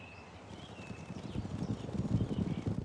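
A half-domesticated herd of wild horses, led by an old gelding, walks past, hooves clip-clopping in an irregular, overlapping rhythm that grows louder and closer, with faint wind and no voices.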